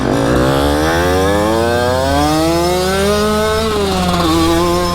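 A gas-powered Surron dirt bike engine revs hard while riding, loud and close, its buzzing tone climbing steadily in pitch through the gear, then dipping briefly before rising again.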